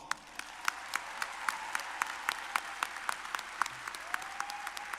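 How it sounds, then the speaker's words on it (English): At a college commencement ceremony, faint, distant clapping comes as a string of sharp, evenly spaced claps over a quiet hall for about five seconds. "Can I get a round of applause?"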